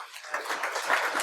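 A conference audience at a software-defined radio talk breaks into a short burst of scattered clapping that holds fairly even across the moment.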